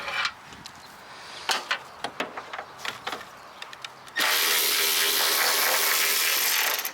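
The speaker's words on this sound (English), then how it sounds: "this is when an electric ratchet comes in clutch" An electric ratchet removes the headlight assembly nuts on a Mercury Grand Marquis, first scattered clicks and knocks of fitting it in place, then a steady loud whirring run for about three seconds at close range.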